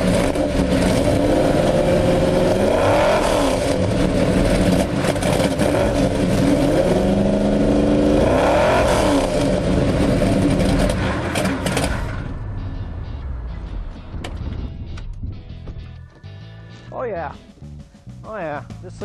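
A modified racing engine car with a torque converter, likely a Mustang, starting up and revving: a loud, rough roar with repeated throttle blips. It then drops to a lumpy idle with sharp rev spikes, and a voice speaks over it.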